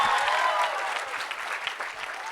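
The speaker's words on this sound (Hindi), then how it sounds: "जोरदार तालियां" Audience at a film trailer launch event breaks into applause, a dense patter of clapping that is loudest at first and then settles to a steady level.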